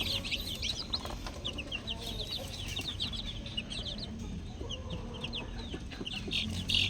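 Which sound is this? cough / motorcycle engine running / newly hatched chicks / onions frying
newly hatched chicks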